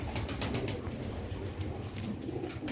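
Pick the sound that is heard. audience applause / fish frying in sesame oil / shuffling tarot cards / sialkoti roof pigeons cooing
sialkoti roof pigeons cooing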